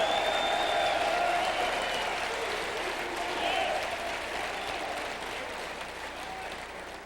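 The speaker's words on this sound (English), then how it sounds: "Come on, give God a good hand clap offering." A church congregation gives a sustained burst of hand clapping applause, a loud continuous wash of claps that slowly fades, with cheering voices and a tonal sound ringing through it.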